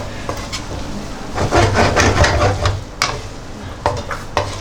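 Spaghetti with mud crab sautéed in butter and a splash of pasta water, stirred briskly in a pan, giving a loud close sizzle with repeated scraping and clattering utensil strokes.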